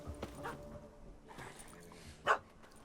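A dog named Demon barks in the video game The Witcher 3, giving a few scattered barks at moderate distance, with the sharpest bark near the end over a quiet background.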